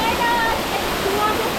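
Waterfall at Three Pond Falls in St. Vincent, a steady broadband rush of falling water filling the whole short stretch, close and constant with no pauses.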